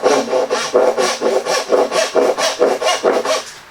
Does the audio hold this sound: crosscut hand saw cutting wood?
yes